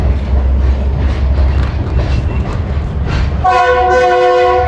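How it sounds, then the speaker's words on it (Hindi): Safari passenger train on the Rawalpindi to Attock line rolling toward the washing line, loud steady rumble of wheels and carriages with a sustained multi-tone horn sounding near the end. "अभी जो ट्रेन है वो चल चुकी है और अभी ट्रेन वॉशिंग लाइन की तरफ जा रही है"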